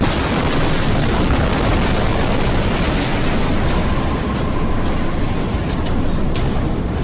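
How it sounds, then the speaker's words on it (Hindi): A blast in Beirut during a wedding photoshoot, heard as a loud, sustained roar of rumbling noise that fills the whole stretch with no clear pauses. "तभी अचानक धमाका होता है।"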